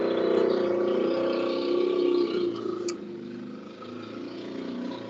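A motorcycle arriving, its engine droning close and steady, easing off partway through then holding a lower idle, with no talk over it.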